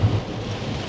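Rain falling during a drive through the Himalayas in light fog gives a steady, dense wash of noise with no gaps, fairly loud and close, with no voices.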